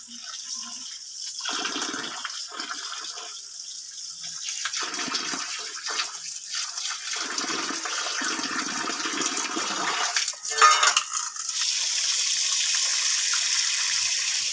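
Raw chicken pieces being washed under running water, a steady gush of water that stops and restarts several times, fairly close.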